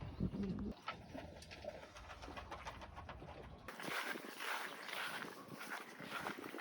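Pigeons cooing in an enclosure, soft repeated coos close by against a hissy outdoor background, with a brief thump early and a shift in the ambience midway; no one speaks.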